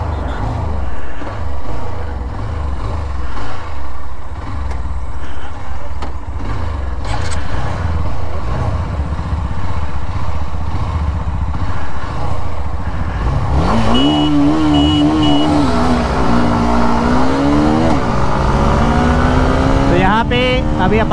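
Hero Xtreme 160R stealth edition motorcycle in a top-end race against a TVS Apache RTR 160 4V, its engine droning loud and steady throughout, then rising in pitch as it accelerates hard with wind noise, with people talking over it.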